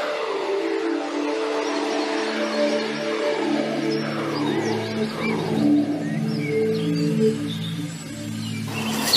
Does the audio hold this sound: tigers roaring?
yes